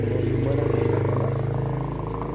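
A motorcycle rides the mountain road from Khangsar toward Bhraga village in Manang, Nepal, its engine a close, steady, pulsing drone throughout the short stretch.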